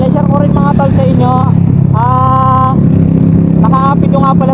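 A Suzuki Smash 115 motorcycle engine on a top speed run gives a loud, continuous close-up drone, with whining tones that rise and fall in pitch over the roar.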